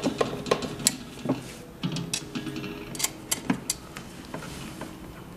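Small metal screws being driven by hand with a screwdriver into a 3D sublimation machine, producing a run of close, sharp clicks and scraping ticks with uneven pauses between turns.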